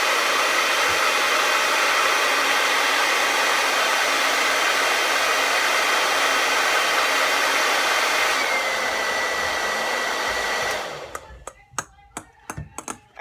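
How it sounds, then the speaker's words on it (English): A blow dryer runs on its high setting with a ping pong ball floating in its upright airflow, giving a loud, steady broadband roar that shifts slightly near the end, then cuts off abruptly, followed by a few sharp clicks and knocks. "So now I'm going to try to do it on high"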